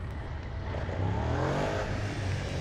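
Suzuki SV 650 motorcycle engine revving up close, a loud steady growl that climbs in pitch partway through and stays high, with no talking over it.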